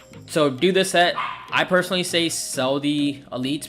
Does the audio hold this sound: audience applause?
no